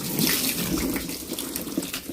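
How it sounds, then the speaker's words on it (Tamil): Running water streams onto a scooter being washed with plain water, a steady, close splashing rush with small irregular spatters. "சும்மா தண்ணியை மட்டும் விட்டு கழுவ போகிறோம்"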